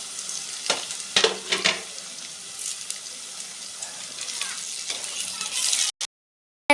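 Ginger-garlic, green chilies and tomato fry in a pan for a Kerala-style crab curry, a soft hiss under brief scraping stir strokes, ending abruptly in silence.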